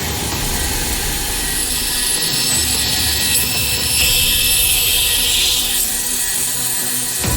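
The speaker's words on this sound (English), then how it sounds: "try to cut a piece of meat on the bandsaw" A BladeStop bandsaw cuts through a piece of meat, giving a steady, loud, continuous whirring hiss with a bright high-pitched edge that swells slightly midway through, with no talking.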